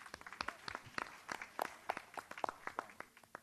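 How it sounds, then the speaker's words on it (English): A small audience claps at a discussion event, a sparse, faint patter of individual hand claps with no voices over it. "A round of applause, please."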